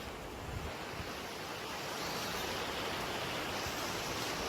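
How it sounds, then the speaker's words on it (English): Steady, dense roar of a rushing mountain river in a canyon, broad and unbroken like heavy whitewater, loud and constant throughout with no voices. "See this beautiful rushing river."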